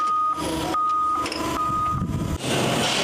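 Trucks unloading pallets of water at a store: a truck's repeated reversing beeps sound over an engine rumble nearby, with broadband clatter and noise toward the end.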